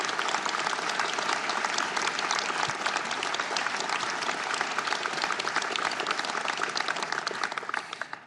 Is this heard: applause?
yes